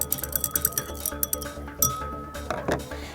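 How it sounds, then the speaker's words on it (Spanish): Spoon stirring dehydrated flakes inside a glass, giving a run of quick, light clinks and taps with a busier rattle near the end, close up with no talk. "Voy a revolver."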